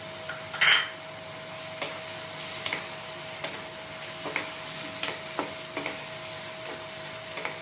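Chopped onion goes into a hot pan for white pulao, with a soft steady sizzle under repeated clinks and scrapes of a utensil stirring against the metal, opening with one louder clatter.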